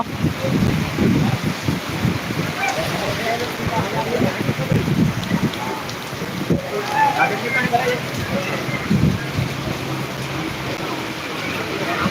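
Heavy downpour in Jamkandorna makes a dense, steady rush of rain with gusty wind buffeting, and faint indistinct voices beneath it.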